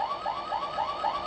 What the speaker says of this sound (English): another car alarm